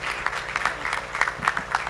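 Audience applause at an awards ceremony, a steady wash of clapping from a crowd with scattered louder claps, continuous and fairly close throughout.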